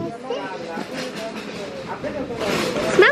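A Chanel Chance perfume bottle sprays in soft airy hisses, with a brighter burst of spritzing near the end, over background talk from a woman and child.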